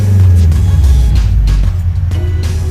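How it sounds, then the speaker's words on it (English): A Scion FR-S engine with an ISR single exit exhaust revs loudly up close, a deep, droning low rumble rising and falling over a few throttle blips. "give it a few revs."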